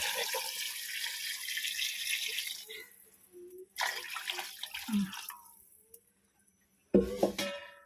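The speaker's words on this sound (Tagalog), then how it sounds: "Lagyan natin ng tubig." Water pours into a pot of chicken soup being made with lemongrass, a steady close rush that breaks off, returns in a shorter burst and ends with a brief splash.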